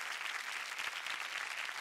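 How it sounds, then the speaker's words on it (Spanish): A studio audience at a 1990s Chilean TV variety show keeps up dense, steady applause throughout. The clapping is even and sustained, with no talk over it. "Y ese mismo aplauso se prolonga para recibir al actor número 2."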